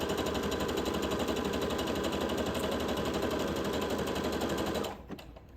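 A sewing machine runs steadily, stitching a seam sample with a fast even mechanical chatter for nearly five seconds, then stops abruptly, leaving a few faint clicks.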